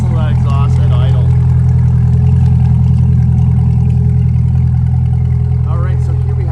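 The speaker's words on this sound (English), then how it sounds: "listen to that exhaust at idle." A 2022 Corvette C8.R Edition 3LT coupe with the Z51 package and a FabSpeed exhaust idles up close in a deep, steady, loud rumble, with brief faint voices over it.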